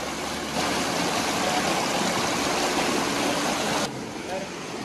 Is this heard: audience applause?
no